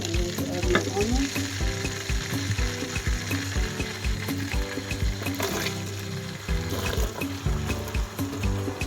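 Onions fry in hot oil for Nigerian vegetable soup, a dense, steady crackling sizzle up close with bubbling and occasional stirring clinks, loud and continuous with no talk.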